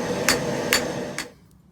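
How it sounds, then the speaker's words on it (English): Three sharp, ringing metal blows from a straight pein hammer striking forge-welded motorcycle chain Damascus steel, spaced about half a second apart over a steady background hum, then the hum drops away. "I'm just going at it with a straight pin, continuing to consolidate the material and draw it out into the size bar I want."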